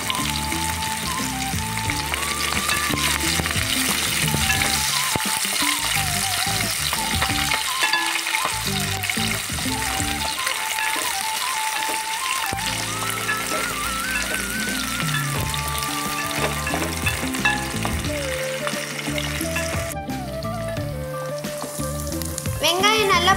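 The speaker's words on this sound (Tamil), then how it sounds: "வெங்காயம் நல்லா பொன்னிறமா வணங்கிடுச்சு" Onions frying in a pan for a vegetable curry with kovakai (ivy gourd), giving a steady, close, fairly loud sizzle throughout, with a few soft stirring scrapes and no talking.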